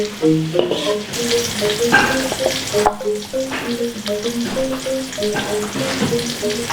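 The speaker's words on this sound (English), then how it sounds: "The oil is hot enough, let's add the shallot. Cook it until slightly soft." Shallots frying in hot oil for smoked skipjack tuna sambal, a steady loud sizzle with scraping stirs, plus a steady background tone with note-like bands running throughout.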